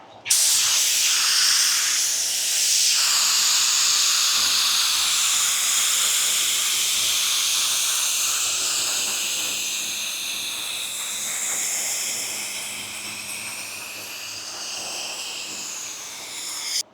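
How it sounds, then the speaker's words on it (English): A long, steady hiss of a Porphis PRD 815 spray gun applying paint, loud and close, fading slightly in the second half before a brief burst at the end. "Spray is nice and uniform."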